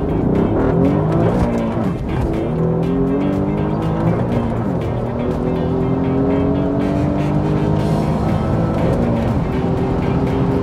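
An Alfa Romeo Giulia in race mode launches hard in first gear at an airport, its engine roaring loud and climbing through repeated rising sweeps with a gritty, tire-tinged edge, continuous and close, with no voices.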